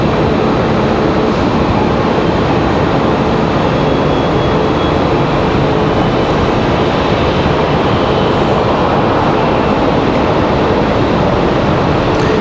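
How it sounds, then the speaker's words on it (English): A Southwest airliner waits at the end of the runway at Raleigh-Durham airport on a stormy evening, heard as a loud, steady, unbroken roar. "we got a Southwest sitting out at the end of the runway waiting for their departure"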